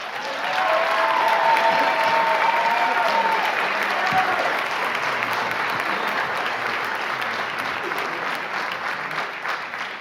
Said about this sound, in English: I hope you've got your applause and your cheering out of your system